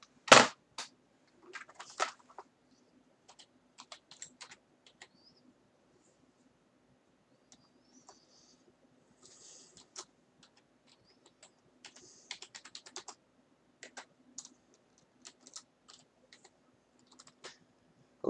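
Computer keyboard typing in short scattered bursts of clicks and key taps, fairly close and quiet, with long pauses between runs and no talking.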